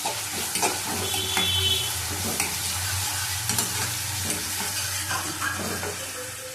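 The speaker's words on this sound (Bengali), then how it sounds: "ভালো করে নাড়িয়ে নেবো।" Ginger and garlic frying in a pan, stirred steadily with a spatula: a close, continuous sizzle with irregular scraping strokes, no talking.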